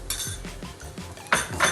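A spoon clinks against a pan as three spoonfuls of whole coriander seeds go into coconut roasting for a spicy chicken roast, giving a few quick metallic taps close up with no talk.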